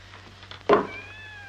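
A cat gives a single short, close meow in a quiet room, over faint background hum.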